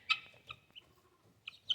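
Guinea fowl and chickens calling inside a coop, with a few sharp, close squawks and clucks in short separate bursts and brief quiet gaps between them.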